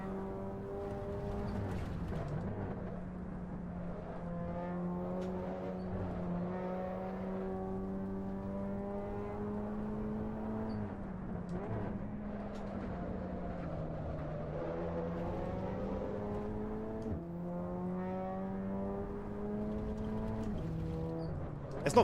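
Race car engine in the Assetto Corsa Evo racing game, repeatedly climbing through the revs with gear shifts between, a steady, moderately loud whine with no talking.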